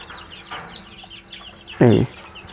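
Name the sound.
chicken clucking during eye-drop vaccination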